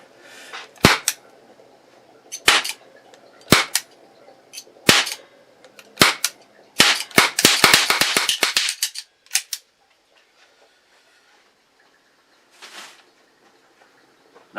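A long series of sharp gunshots from two guns fired one after another, spaced at first, then in a fast burst of many rapid reports before stopping, with a couple of stray cracks and quiet gaps toward the end.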